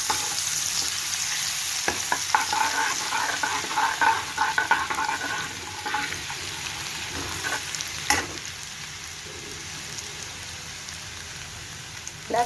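Ginger garlic paste hits hot oil in a pan and sizzles steadily up close, with a crackly, rain-like patter and a few spoon clicks, no one speaking.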